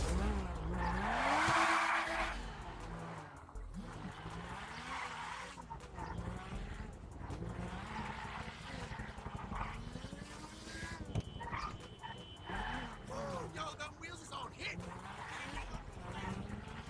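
Sports car driven in the GTA video game, with tire skidding and squealing at the start and continuing engine and road noise throughout, under someone talking.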